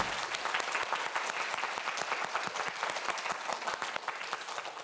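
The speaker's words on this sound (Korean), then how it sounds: "저희는 마지막으로 큰 박수 한번 보내주도록 하겠습니다" Studio audience applause on a Korean TV quiz show, a lively, continuous patter of many hands with crisp individual claps, steady and fairly close throughout.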